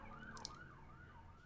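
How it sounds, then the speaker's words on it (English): An ambulance siren passes by outdoors, its wailing tone rising and falling steadily over a low background hum, moderately distant with no speech. "There goes an ambulance."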